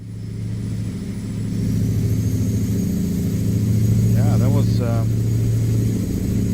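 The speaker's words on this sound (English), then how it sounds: "this engine is louder than the other ones for some reason" A cattle road train truck's engine in a trucking video game drones loudly and steadily, building slightly, while someone speaks briefly over it.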